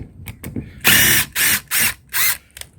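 Power screwdriver driving a screw into the plastic handle of a kerbside food-waste caddy during a repair, several short whirring bursts with brief pauses between them, close and loud.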